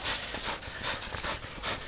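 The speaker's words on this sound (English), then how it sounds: "Come on, dog. Come here." A hunting dog panting hard after catching a boar in the Sabine River bottoms, fast rhythmic breathy huffs close by, continuous throughout with no talk.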